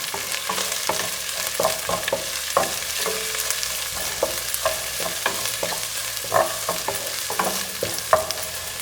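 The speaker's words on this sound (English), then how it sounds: "I'm just going to be adding the onions into this. Let's mix all this together." Onions being stirred and fried in a pot for soya chunks pulao, a steady sizzle broken by regular scraping and tapping of the spoon, close and alone without talk.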